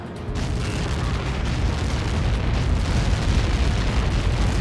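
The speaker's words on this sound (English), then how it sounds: "How many got caught in that explosion?" A Helios missile impact explosion in Ace Combat 7 Mission 19 produces a deep, rolling roar that swells and sustains after the blast, dense and rumbling without voices.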